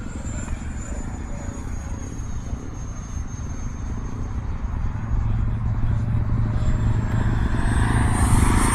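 An E-flite F-16 80mm electric ducted-fan RC jet flies fast, its high whine steady and building slightly louder, with a strong rushing roar that grows over the clip.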